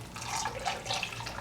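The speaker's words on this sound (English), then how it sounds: "I'm gonna pour this all around the edges" A liquid mixture poured around the edges of pork in a slow cooker, heard as a soft, steady trickle and splash that is faint and close.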